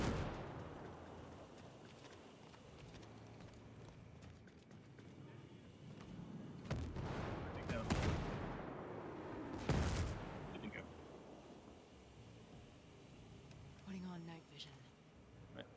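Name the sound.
mortar fire and explosions in video game Ghost Recon Breakpoint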